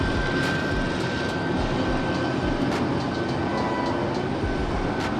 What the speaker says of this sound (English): got a helicopter passing and we got an airplane